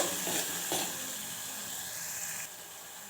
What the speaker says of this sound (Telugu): ఇది పచ్చిమిర్చి అన్నది కొద్దిగా ఆయిల్లోనే వేగాలండి